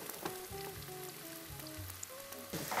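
Chopped onion sizzles and crackles steadily in a hot pan at high heat, a close, even frying hiss with faint background tones and no speech.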